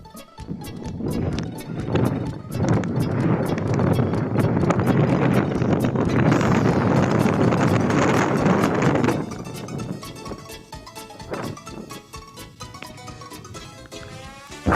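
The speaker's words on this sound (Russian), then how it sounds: "Ветер мешает." Wind buffets a microphone outdoors on early winter ice during a blizzard, loud rumbling gusts swelling for about nine seconds, then easing to lighter bursts and crackles.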